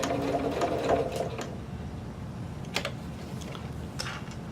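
A sewing machine stitches two horizontal rows around a fabric collar, its steady mechanical whirring running throughout at moderate volume, with short bursts of faster stitching and light clicking.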